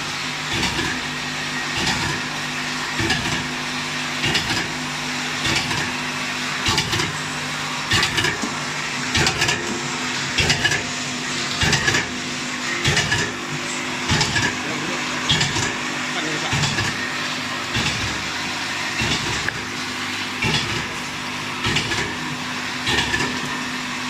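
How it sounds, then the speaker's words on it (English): A dual-head diptube fitting machine for lotion pumps runs steadily, its constant mechanical drone punctuated by regular rhythmic clacks and thumps throughout, with no talk. "This is the Diptube fitting machine for the Lotion pump."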